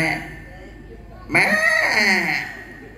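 A voice imitates a goat's bleat with a short, wavering call that comes after a moment of quiet. The call is near and clear.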